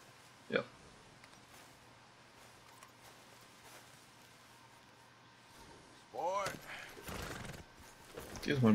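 Horse hooves clip-clop quietly in Red Dead Redemption 2, with a short, faint neigh near the start and a louder cluster of hoof and movement sounds toward the end.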